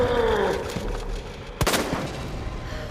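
Gunfire aimed at a boss in Resident Evil 2, loud and close within a busy game mix, including a sharp heavy shot near the middle and smaller impacts around it.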